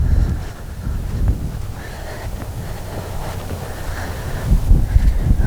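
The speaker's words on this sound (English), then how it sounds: "I'm walking into the wind, so I'm going to walk backwards. Super windy here" Low rumbling wind buffets a Saramonic UwMIC9 wireless microphone continuously outdoors, with gusts swelling louder near the end; no voices.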